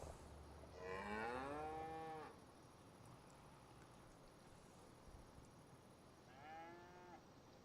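Cows in a field in Farming Simulator 25 moo twice, one long drawn-out low at the start and a shorter one near the end, heard alone over a quiet farmyard ambience.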